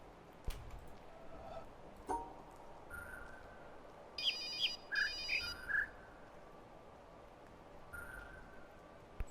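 A phone in The Witness gives a few short, bright electronic rings in a quick burst partway through, faint against a quiet ambient background with sparse chirps.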